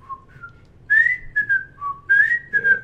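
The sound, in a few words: person whistling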